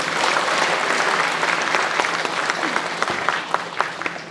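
Residents at a Sejong city town-hall meeting with the mayor applaud in a dense, lively burst, with a few sharper individual claps standing out as it tapers.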